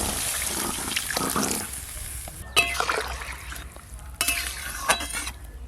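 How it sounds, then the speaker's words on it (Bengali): Water poured into a pan of frying potatoes and drumsticks, stirred with a utensil: a steady sizzle breaks into clattering stirs and scrapes, then hisses and bubbles as the liquid hits the hot pan, no voices. "এবার আমি পরিমাণ মতো জল দেব।"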